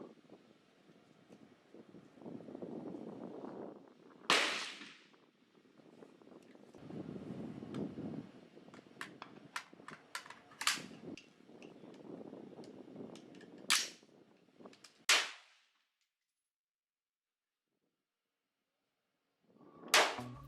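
Rifle shots at a shooting range, played back from a recording, ring out as about six sharp, separate cracks spaced irregularly over wind noise, with a silent gap near the end.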